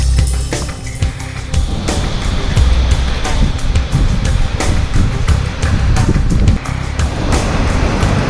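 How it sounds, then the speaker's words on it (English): A waterfall at the end of a short desert hike near Moab, Utah, sends up a steady, loud, broadband rush of falling water with wind buffeting the microphone in gusts throughout. "Waterfall in the desert."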